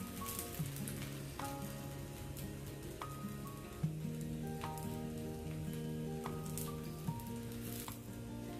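A rava dosa fries in oil on a pan with a steady, soft sizzle and crackle that runs throughout, along with a few light clinks. No one speaks.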